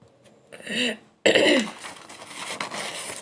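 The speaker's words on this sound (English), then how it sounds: "I have problem of cough." A short throat clearing followed by a louder burst of coughing and raspy throat sounds, close to the microphone, with no talking.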